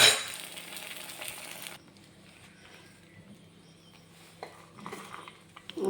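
Ghee sizzles and crackles as it heats in a pan, a bright hiss that drops off after a couple of seconds into a soft, quiet simmer, with a few small clinks of a spoon or utensil near the end.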